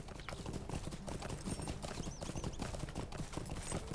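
Horse hooves clatter in a quick, continuous clip-clop as the player rides off in a video game, loud and close over a dense bed of ambient game sound.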